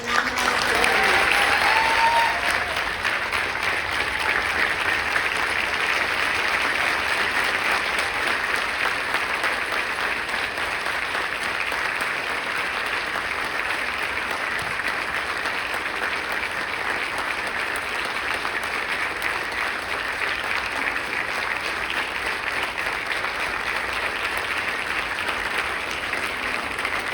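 Sustained applause from a large audience at the Human Rights Defender awards ceremony, loudest at the start, then holding as a dense, even clatter of clapping for nearly half a minute.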